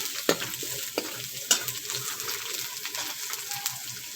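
Whole round red chillies dropped into hot oil in a pan, a steady soft sizzle with scattered crackles and a few sharper pops, quiet and close, no talk.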